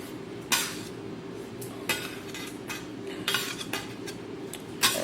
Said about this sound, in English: I just use my scraper again, and I kind of just scrape it for it to kind of keep its form